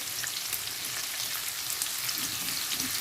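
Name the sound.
onions frying over medium-low flame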